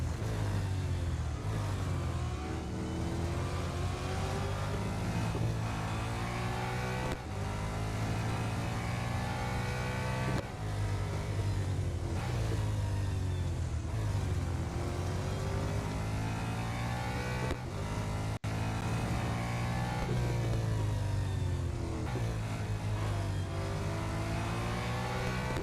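A race car engine in the Real Racing 3 game drones loud and steady for the whole stretch, its pitch climbing and dropping in repeated waves as gears shift, with no talking over it.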